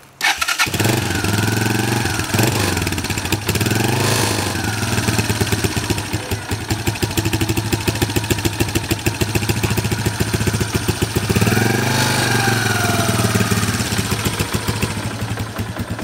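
A 1987 Honda Fatcat engine cranks and catches from cold, then settles into a steady, loud close-up idle with a busy rapid pulse and occasional revs, needing choke.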